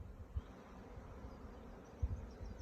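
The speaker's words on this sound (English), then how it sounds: "The bees are flying well" Honeybees fly around hives in an outdoor apiary, a faint continuous buzzing hum with occasional low wind bumps, no voices.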